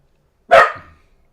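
A dog gives one sharp, close bark early in the morning, loud and alone, with a short trailing echo before quiet returns.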